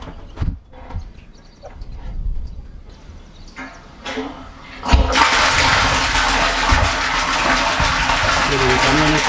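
Water gushes into a tank after a float switch is lowered, starting as scattered knocks and splashes, then becoming a loud, steady broadband rush that fills the rest of the clip.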